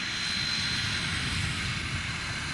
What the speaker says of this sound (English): That's the airplane, landed just after we did.